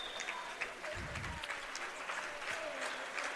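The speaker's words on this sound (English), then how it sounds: "getting applause from the crowd" A crowd at a high school swim meet between Indianola and Ankeny applauds a swimmer finishing a 500-yard race. The clapping is steady and mid-distance in a reverberant natatorium, with faint voices underneath.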